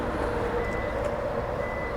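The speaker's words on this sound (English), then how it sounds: "It starts beeping" Kia EV3 warning beeps sounding before its trunk opens automatically, a steady electronic tone repeating over a low outdoor hum.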